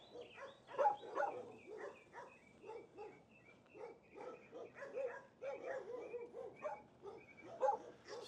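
A dog barks and yips repeatedly at close range in a quick irregular series of sharp calls mixed with whimpers, loud against an otherwise quiet background.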